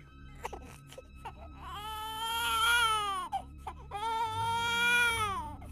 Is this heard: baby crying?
yes